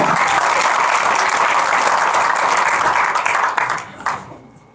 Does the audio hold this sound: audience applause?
yes